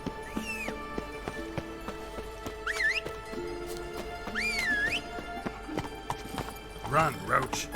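Roach, the horse in The Witcher 3: Wild Hunt, gallops with a steady rhythmic clip-clop of hooves, alongside whistles, a whinny and voices.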